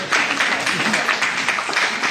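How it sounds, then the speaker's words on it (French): Audience applauding after a magic trick with bottles and a glass, a dense burst of many hands clapping at once, steady and fairly loud throughout, with faint voices underneath. "là on peut applaudir."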